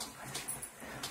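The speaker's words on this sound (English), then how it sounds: "Oh, the puppies play." Puppies playing together close by, with short whimpers and yips over a steady low rumble of movement through the short stretch.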